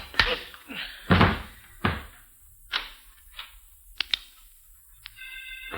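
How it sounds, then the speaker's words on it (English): A door kicked shut in a 1940s radio drama, a series of sharp thunks and knocks at close range, with faint voice-like sounds between them. "I reached back with my foot and kicked the door closed."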